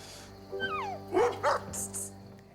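A dog gives a whining yelp and then several sharp barks in a TV show, near and fairly loud, with a couple of higher yips near the end over a faint background hum.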